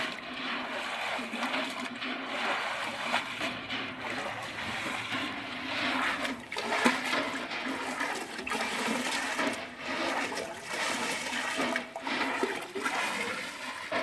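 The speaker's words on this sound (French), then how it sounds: "vous prenez vos filets et vous les rincez dedans" Mesh filter bags from an aquaponics tank filter being rinsed and swished in water, a steady splashing and sloshing wash that runs continuously throughout, fairly close, with no talking.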